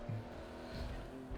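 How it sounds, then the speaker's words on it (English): Supercar engine and tyres racing in Forza Motorsport 7 around a Dubai circuit, a steady mid-level engine drone with a brief tyre squeal near the start. "Just hooning these supercars around"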